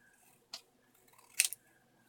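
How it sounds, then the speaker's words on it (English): Scissors cut card paper into thirds, two quick crisp snips, one short and a louder double snip a second later, close and clear in an otherwise quiet room. "Then what you're going to do is you're going to cut this one into thirds."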